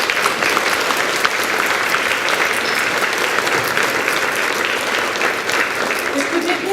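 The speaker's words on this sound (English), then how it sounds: "Can you give her a round of applause," A dessert theatre audience in Hartland gives a steady, dense round of applause that fills the room at an even loudness throughout, with no voices standing out above the clapping.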